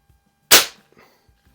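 A single sharp crack from a vintage JC Higgins or Quackenbush air rifle, loud and close, decaying quickly into near silence with faint small clicks after.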